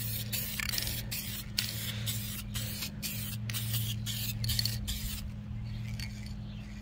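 Vinyl dye sprays onto a car seat of an Integra in a rapid series of close, hissing bursts, about a dozen short sprays separated by brief pauses over a low steady background hum.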